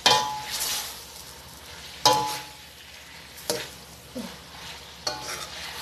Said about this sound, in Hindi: अब मैं इसको स्टेयर कर रही हूँ